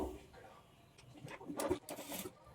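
A sewing machine runs a top stitch on a boat-neck lehenga blouse in a few quick, short bursts of whirring under a voice talking.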